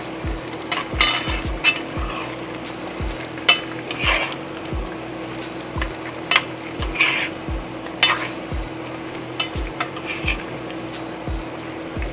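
Ginger frying in a pan for chicken curry is stirred with regular scraping strokes over a constant sizzle, each stroke a close, distinct scrape repeating about once per second.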